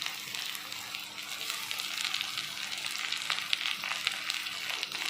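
Tomatoes tipped into a hot frying pan with chopped ginger and split green chillies, giving a loud, continuous, close-up sizzle and crackle of oil that holds steady throughout.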